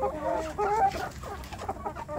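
Free-range kampung chickens in a coop cluck steadily at close range, a dense run of overlapping soft calls with a few sharper notes, no voices present.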